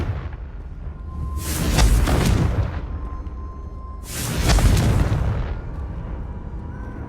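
Two heavy fiery blasts from the Confringo spell in the video game Hogwarts Legacy, each a loud booming explosion that swells and fades over a couple of seconds, evenly spaced with a low rumble in between.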